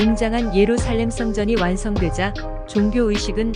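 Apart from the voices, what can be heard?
No everyday noises stand out.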